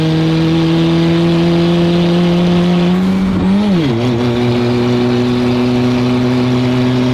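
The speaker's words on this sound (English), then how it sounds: "I hear a wastegate." A turbocharged replica Bugatti Veyron drones loudly at steady revs in a second-gear roll-on, dips and shifts pitch briefly midway with wastegate noise, then settles into a lower, sustained hum.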